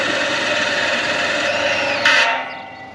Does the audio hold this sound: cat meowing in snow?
no